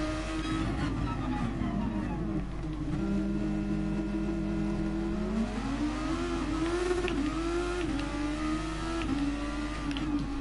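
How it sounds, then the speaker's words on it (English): Race car engines in Gran Turismo Sport at Laguna Seca, including an old-school McLaren, droning loudly with rising and falling pitch through gear changes and throttle lifts, continuous and close, with faint talk underneath. "There's an old school McLaren coming out the pits just in front of me as well."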